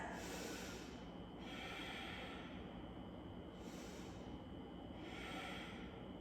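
Slow, steady breathing during a yoga practice, with three long airy inhales and exhales rising and falling in an even rhythm close to the microphone, alone without talk.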